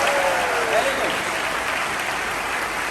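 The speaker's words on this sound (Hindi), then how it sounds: "तो ताली जोरदार तरीके से अपने लिए बजाइए तो एक बार।" Loud, steady applause from an audience at a hotel seminar, dense clapping sustained throughout without a break.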